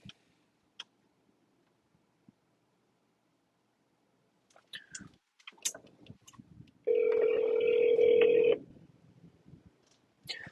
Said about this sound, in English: All right, I'll call this number back.